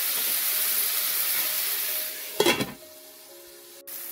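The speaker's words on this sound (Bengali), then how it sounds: "চিংড়ি শুটকিটা ভাজা হয়ে গেছে" Dried shrimp stir-frying in a pan gives a steady, close sizzle and hiss, broken midway by a brief clatter of stirring before the frying noise settles again.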